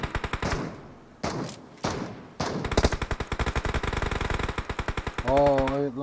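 Gunfire in the mobile battle-royale game PUBG Mobile: a few spaced single shots, then sustained rapid automatic bursts, loud and close, with a voice briefly heard near the end.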